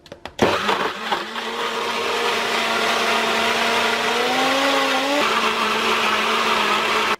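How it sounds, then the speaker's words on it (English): A blender blending a mango smoothie whirs up after a few clicks, running loud and steady with a rising motor whine that shifts pitch midway, no talking. "Okay, I've sealed up my blender. Let's pop it on to blend."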